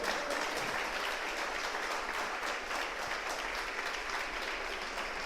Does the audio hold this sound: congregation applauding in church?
yes